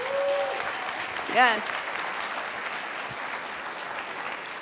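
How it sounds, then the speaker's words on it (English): Applause for Oliver at the 2019 Pitch Dingman Competition finals, a soft, continuous room-wide clapping with a brief voice and a whistle-like cheer rising over it early on. "Will you all join me in giving Oliver a round of applause?"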